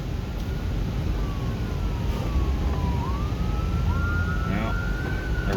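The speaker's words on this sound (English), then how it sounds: "I'll guarantee that's where that ambulance is headed." An ambulance siren passing at a distance, its wailing tone sweeping up and down over a steady roar of road and wind noise, moderately faint throughout.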